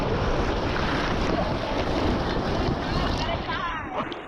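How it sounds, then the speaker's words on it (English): Ocean surf on a Florida beach, broad crashing waves roaring continuously with heavy wind noise buffeting the microphone, loud and close, with brief voices underneath. "Look at these gnarly waves, man."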